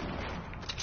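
Sniper rifle fire in Fortnite, a short burst of sharp gunshot cracks heard over a busy game mix with no voices.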